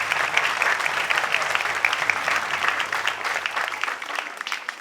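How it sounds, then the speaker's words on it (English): An audience at an Oregon community band concert gives a sustained round of applause for OCA Media, the clapping dense and even throughout. "let's give a little round of applause to OCA"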